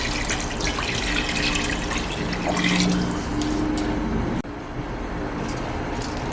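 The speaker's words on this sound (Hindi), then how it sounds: "अब इसमें हम पानी डाल देंगे।" Water pours steadily into a cooking pot of Saudi shorba soup with cardamom, black lemon, salt and crushed garlic, a continuous close splashing stream that cuts off abruptly, followed by a softer lingering trickle.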